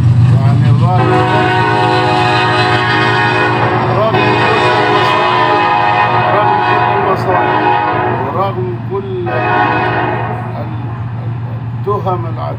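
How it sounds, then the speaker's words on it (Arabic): A passing train on an Egyptian railway sounds long, loud, sustained horn blasts over a steady low rumble of rolling wagons, the horn fading and returning in several stretches. "برضو القطارات شغالة وهذيكم سمعتوا صوتها"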